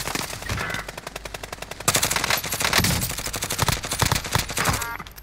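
Dense, rapid automatic gunfire in the video game Call of Duty: Modern Warfare, long continuous bursts of loud fire with brief gaps and heavier overlapping volleys, with no voices.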